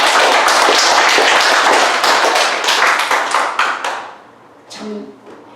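A church congregation bursts into loud, sustained applause that fills the room evenly, then thins out and fades over the last couple of seconds.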